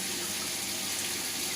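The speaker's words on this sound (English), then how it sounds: "Can feel the power of the water coming out" Water from a Grundfos twin impeller regenerative booster pump rated 3.0 bar gushes out at speed, a steady loud broadband rush with no break and no talk.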